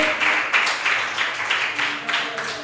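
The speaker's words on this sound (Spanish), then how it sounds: "dale un aplauso a Cristo" Steady rhythmic clapping from a church congregation, moderately distant and even, with the beats pulsing in unison over a faint room hum.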